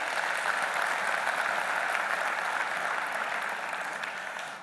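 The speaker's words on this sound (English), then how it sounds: "Another round of applause, ladies and gentlemen" Audience at a business partnership event giving a round of applause, a dense, even wash of clapping that holds steady and fades slightly toward the end.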